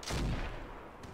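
A single heavy blast of light autocannon fire in the naval game Roguepoint, loud and booming, with a short rumbling decay and a faint second crack near the end.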